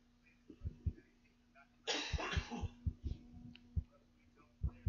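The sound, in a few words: cough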